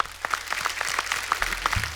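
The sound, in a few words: audience applause for O. P. Nayyar on a TV show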